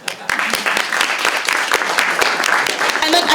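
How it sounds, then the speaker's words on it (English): An audience at a Pacific climate security conference panel applauds, a dense run of quick, close claps that starts abruptly and holds steady. "please give him a big round of applause"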